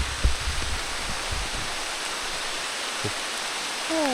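Heavy rain pours steadily in a dense, hissing wash, with a few low knocks and thumps early on and a brief higher tone near the end.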